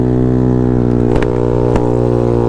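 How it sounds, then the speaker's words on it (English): A Honda Ruckus scooter engine with a fresh spark plug runs steadily on a test run, its low droning hum holding an even idle with a couple of brief sharp blips, close and loud with no talking. "Alright, here we go for a little bit of a quick test run with the spark plug."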